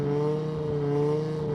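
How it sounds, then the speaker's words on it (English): A drift car at a Formula Drift Orlando 2026 Pro round holds high revs at idle. The engine produces a steady, loud, droning tone with no talk over it. "I'm hearing engine holding rev."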